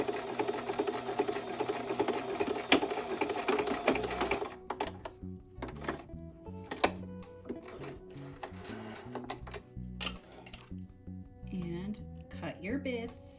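Sewing machine stitching fabric for a scrunchie, a fast close mechanical rattle for about four seconds, then stopping, followed by quieter handling noises and someone speaking.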